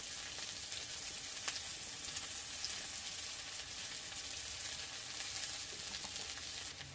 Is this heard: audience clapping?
no